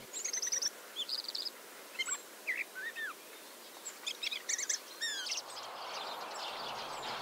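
Common blackbirds call in winter, a series of short, clear chirps and whistled notes coming in separate bursts over a quiet background, fairly close, with a rising rushing hiss toward the end.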